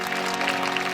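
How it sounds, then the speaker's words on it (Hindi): Brief applause from an audience welcoming a singer onto the stage at a D.El.Ed. farewell event, a dense, even wash of clapping with no break. "जोरदार तालियों से उनका स्वागत कीजिए"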